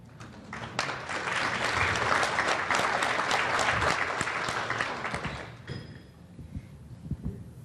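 Applause from a conference audience at a self-advocacy panel, a dense sustained wash of many hands clapping that swells and then fades out into scattered thumps and room noise.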